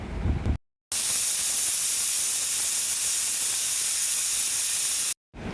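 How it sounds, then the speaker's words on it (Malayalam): Coconut, shallots, garlic and curry leaves fry over medium flame in a pan for a Palakkad-style village curry, giving a loud, steady hissing sizzle that fills the clip between two brief breaks at the start and end. "തേങ്ങയും കുഞ്ഞുള്ളിയും വെളുത്തുള്ളിയും കറിവേപ്പിലയൊക്കെ ഇട്ട് കൊടുത്ത് മീഡിയം ഫ്ലെയിമിൽ വെച്ച ശേഷം ഒന്ന് വറുത്തെടുക്കുക"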